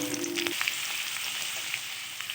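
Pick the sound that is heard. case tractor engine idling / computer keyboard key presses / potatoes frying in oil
potatoes frying in oil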